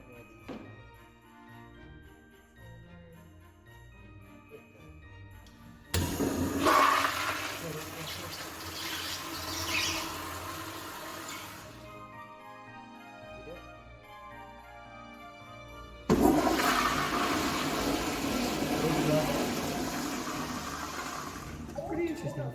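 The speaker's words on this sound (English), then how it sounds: "Old Toto self flusher." Old Toto self-flushing hotel restroom toilet flushing twice, each a sudden loud rush of water that slowly fades, with ringing room echo between.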